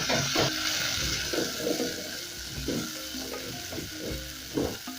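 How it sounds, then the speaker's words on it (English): Chopped onions fry and sizzle in a pot for a thick coconut bean stew, a steady hiss with soft clicks and scrapes of stirring close by, no voices. "I'll go in with my onion. So I'm going to cook this till they turn translucent."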